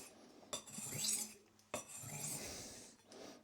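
A kitchen knife scrapes across a whetstone in long grinding strokes, with a sharp metallic catch at the start of each pass and a hissing rasp as it slides, quiet and close.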